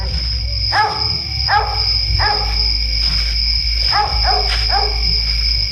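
Several sharp dog barks come in irregular bursts over a constant electrical hum and a high insect drone, at night in the Philippines.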